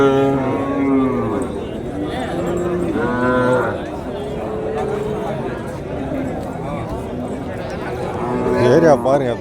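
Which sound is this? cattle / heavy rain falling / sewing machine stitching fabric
cattle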